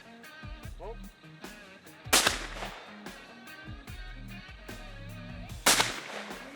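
Shotgun blasts at a sporting clays competition: two sharp, loud reports a few seconds apart, ringing out over quieter talk and background sounds outdoors.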